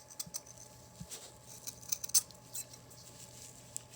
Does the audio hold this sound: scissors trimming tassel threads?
yes